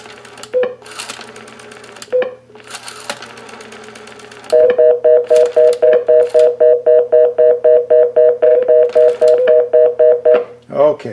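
A pulse-dial-to-DTMF converter in blue box mode plays a speed-dial sequence of about twenty evenly spaced, loud two-tone beeps in quick succession. Earlier, scattered short tones and clicks sound under speech.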